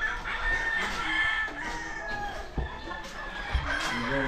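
Gamefowl roosters crowing and hens clucking on a farm, several overlapping crows and clucks at moderate distance over steady background noise.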